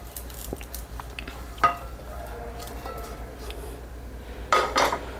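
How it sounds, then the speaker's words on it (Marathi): Roasted garlic is scraped from a pan into a mixer jar, with faint spoon taps, a sharper clink midway and a short scraping rattle near the end, alone and fairly quiet. "आता तेही मी मिक्सरच्या भांड्यात काढते"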